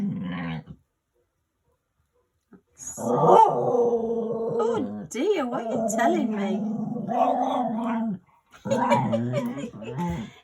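A dog growls and grumbles up close in drawn-out, voiced bursts, with someone talking to it over the sounds.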